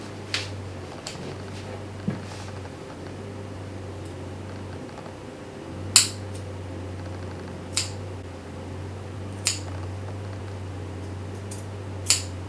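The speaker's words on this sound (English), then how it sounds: "when you start cutting on the seam, in the middle of the seam. Just keep cutting all the way around" Scissors cutting along the seam of a hoodie, making sharp, separate snips spaced roughly a second or more apart over a steady low hum, with no talking.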